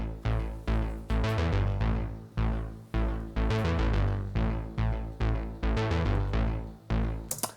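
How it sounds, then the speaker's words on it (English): A soloed synth bass line plays alone in a steady repeating rhythm of punchy, decaying notes, clear and up front with no voices. "So that's the main bass line"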